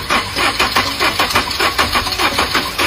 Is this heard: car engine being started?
yes